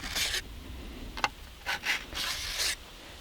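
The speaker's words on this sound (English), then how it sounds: "file that burr off of this bar" A metal file rasps a burr off the edge of a chainsaw bar in several short, close scraping strokes with brief gaps between them.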